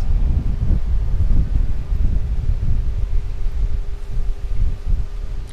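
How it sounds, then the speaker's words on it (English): Wind blowing across a fishing dock, a loud steady low rumble of gusts buffeting the microphone that continues throughout with slight swells, with no talk. "I'm glad the wind started up right when I"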